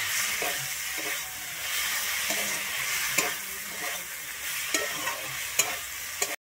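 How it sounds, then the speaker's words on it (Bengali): Fried yard-long beans being stir-fried with spices in a pan, a continuous sizzling hiss punctuated by regular scraping strokes of the spatula, close and steady with no voices. "বরবটিটা দিয়ে কিন্তু মশলার সঙ্গে একটু ভালোভাবে কষিয়ে নিচ্ছি"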